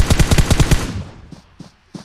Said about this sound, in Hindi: अबे ये किस लिए गोली चला रहे है अब